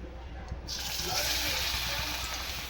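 Puffed rice vadas are dropped into hot oil and start frying, setting off a steady, close sizzle that holds at an even level.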